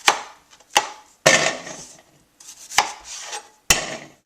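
A knife halves potatoes on a cutting board, giving five sharp chops with uneven gaps and short scraping between them, close and clear with no talking.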